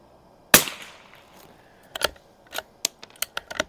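A Winchester 52C rifle firing Wolf Match Target ammunition on a 50-yard range: one sharp, close shot followed by a series of quick, light mechanical clicks and snaps from the action and trigger, with no voices.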